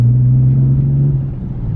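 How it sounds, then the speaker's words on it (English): A Nissan Z drives straight down a road, its engine and tyres making a loud, steady low drone heard from inside that eases slightly toward the end. "the car drives dead straight"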